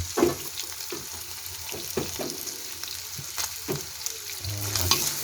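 Garlic frying in a pan, a steady bright sizzle with scattered clinks and stirring scrapes throughout, fairly close and without any talking.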